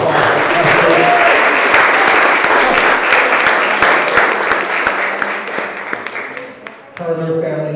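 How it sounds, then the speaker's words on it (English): An award show audience breaks into loud, dense applause that fills the room, then thins out as a speaker's voice returns at the end. "I'd like to give a round of applause for Esther."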